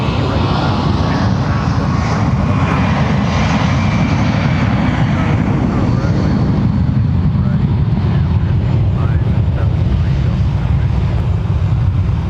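A fixed-wing airplane at MSP airport, its engine roar loud, broad and continuous, with speech faintly present underneath.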